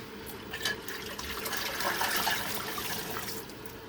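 Hot water from a coffee maker splashes and pours, a close, continuous liquid rush that swells in the middle with a few drip-like splats, no voices over it.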